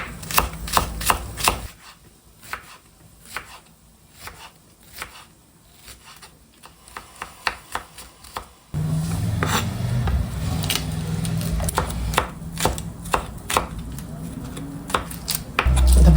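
Onion scraps chopped with a knife on a board for a meat and garlic filling, a quick run of sharp, near knocks, then steadier dense chopping over a louder background hum.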